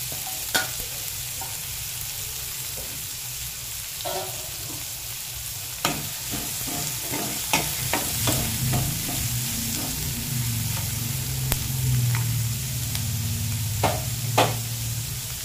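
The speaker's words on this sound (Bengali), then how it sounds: "তেলটা গরম হয়ে গেছে, ওর মধ্যে দিয়ে দেবো পেঁয়াজ কুচি।" Chopped onion fries in hot oil in a wok, a continuous close sizzle with occasional sharp clicks and scrapes of stirring. No one speaks.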